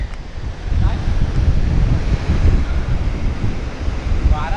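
Sea waves and wind at the seashore in the evening, a loud rumbling surf wash with buffeting wind noise on the microphone, close and continuous.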